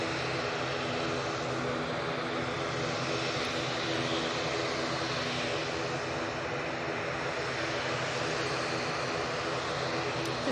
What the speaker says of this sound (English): This is Isle of Man flight that's off to see Laura.